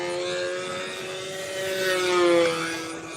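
A model airplane at a flying contest drones overhead under propeller and engine power, a steady buzzing tone that swells louder as it passes nearer, then eases off, with no talk.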